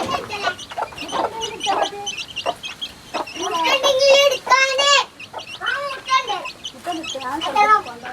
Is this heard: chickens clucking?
yes